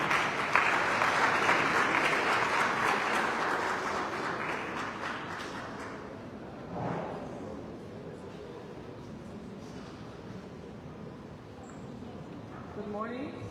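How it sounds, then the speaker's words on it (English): Audience applause for a woman engineer being introduced as the next presenter at a conference, a dense burst of clapping that fades over several seconds, followed by faint room noise and a brief voice. "So can you please clap for the lady?"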